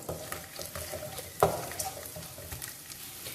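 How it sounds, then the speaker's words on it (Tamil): Garlic sautés in sesame oil, making a low, even sizzle with a spoon scrape and a sharp tap partway through, close by and without talk. "இந்த பூண்டு வந்து இந்த எண்ணெயில் கொஞ்சம் நல்லா வதங்கணும்."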